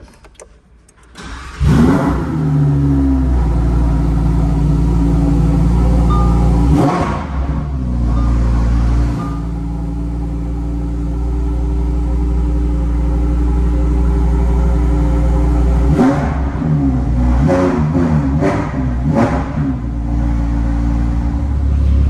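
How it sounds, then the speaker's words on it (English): A 2021 Lamborghini Huracan STO's V10 fires up with a loud, close bark after a short quiet start, then settles into a deep idle broken by sharp revs near the end. "Okay, time to start the new V10"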